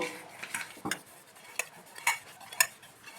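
White oil being spread around the inside of an aluminium bowl, giving soft scraping strokes with several light metallic ticks and clinks of a utensil against the metal, close and quiet.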